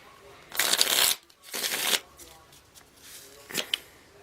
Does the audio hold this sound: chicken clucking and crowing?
no